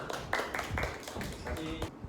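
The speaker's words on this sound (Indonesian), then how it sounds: "tepuk tangan untuk kelompok 1" Classmates clap for group 1 in a classroom, scattered hand claps mixed with people talking over them, a short, busy burst of close indoor applause.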